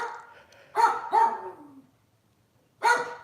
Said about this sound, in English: He's over there barking.